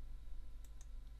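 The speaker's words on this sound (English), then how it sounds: "we hit the delete key on the keyboard" A computer keyboard's delete key is tapped twice in quick succession and then once more faintly, with crisp, quiet clicks over a low steady hum.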